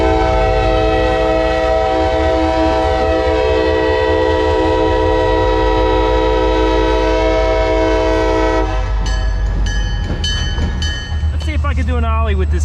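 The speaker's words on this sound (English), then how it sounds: "We're gonna watch the CSX cross the road." A CSX freight train crosses a road, its horn blaring a long, loud sustained chord for most of the stretch before cutting off into rumbling wagons and rattling clatter, with a voice speaking near the end.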